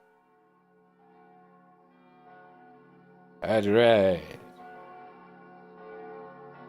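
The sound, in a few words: church bells ringing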